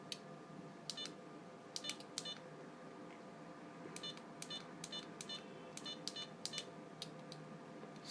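Ringtones from an Alcatel OT 311 mobile phone, a string of short, bright electronic beeps and tone bursts that come in repeated clusters over a steady background hum, with no voices.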